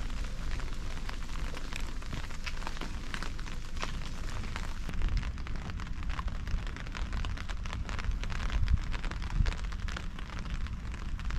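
Steady rain pours outdoors at a hilltop lookout, a dense continuous hiss and patter that stays loud and even throughout with no voices.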